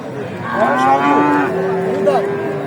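A pregnant Australian-breed cow, about two teeth in age, moos loudly and close at a livestock market, giving one long drawn-out call followed by a shorter one, with no talk over it.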